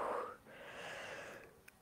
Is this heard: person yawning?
yes